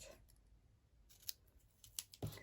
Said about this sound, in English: These are my sticky scissors.